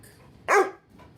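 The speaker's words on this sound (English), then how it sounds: "he's running around playing and barking." A single sharp dog bark, close and fairly loud, with quiet surroundings before and after.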